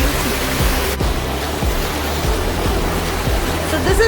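River water flowing at Three Rivers near San Diego, California, a loud continuous rushing wash with small splashes throughout, close to the listener.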